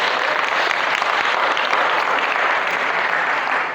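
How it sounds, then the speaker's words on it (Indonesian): Loud, steady applause from a crowd of students at an MC skills training session in a school hall, a dense wash of clapping that holds evenly for several seconds before easing slightly at the end. "Tepuk tangan buat kakak kita hari ini."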